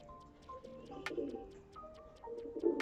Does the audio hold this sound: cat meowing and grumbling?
no